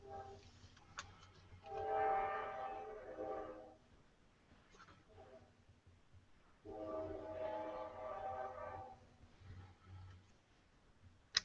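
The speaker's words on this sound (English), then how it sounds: "Am I hearing a train near you?" A train rumbles past some distance away in two swelling waves, its tonal horn-like whine rising and fading, with quiet background noise between.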